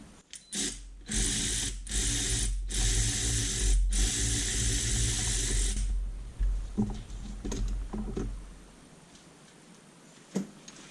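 A power ratchet whirs loudly for several seconds in short bursts on a spark plug of a Triumph Spitfire, then stops, leaving quieter clicks and handling noises.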